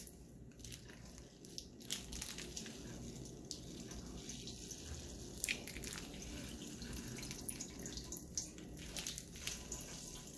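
Water dripping and trickling from squeezed cauliflower, faint irregular drips and splashes with soft squelching over a quiet background.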